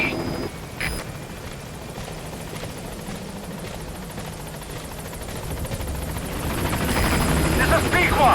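B-Quad transport helicopter in Metal Gear Solid V arriving at a landing zone, a steady rotor thrum that grows louder and closer toward the end, with faint radio voices briefly over it.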